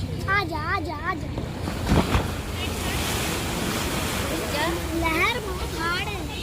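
Strong, rough sea waves surge and break in a loud, continuous wash of surf with gusts of wind on the microphone, and several voices call out over the water.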